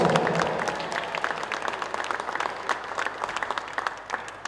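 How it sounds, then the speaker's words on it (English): Spectators at a South African National Futsal League match give the two teams a steady round of applause, with many hands clapping at once and then slowly fading. "let's once again give those two beautiful teams a mighty big round of applause"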